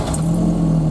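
Car engine turning over at a village repair shop, a brief steady mid-pitched hum with a sustained tone, close and alone.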